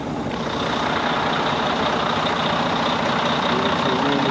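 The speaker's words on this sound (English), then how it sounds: "what I'm basically doing right now is trying to warm the truck up" Truck engine idling while warming up in very cold weather, a steady, loud diesel drone with constant rumble and hiss heard close, unchanging throughout, no speech.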